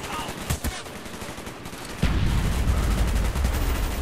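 Gunfire in Call of Duty: Black Ops, a couple of sharp shots early on, then a loud, dense burst of rapid automatic fire that sustains to the end.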